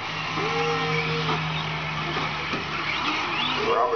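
Nitro monster truck engine droning steadily through a motocross event, loud and sustained with shifting pitch as it races, mixed with crowd and arena noise.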